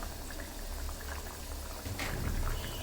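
Beef for tehari cooking in a covered pot, a constant close bubbling and simmering hiss with no pauses across the short stretch.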